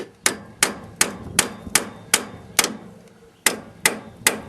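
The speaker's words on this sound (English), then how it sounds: "I'm going to tap on the end and see how they come out" Hammer tapping on bolt ends in a 2006 Chevy HHR strut assembly, about a dozen sharp metallic strikes in an uneven rhythm with a short pause near the end, close and loud.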